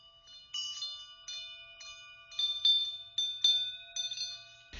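Metal bells in a bell garden ring out in a series of bright, clear strikes, each leaving a long sustained shimmering tone that overlaps the next, with quiet gaps and no speech.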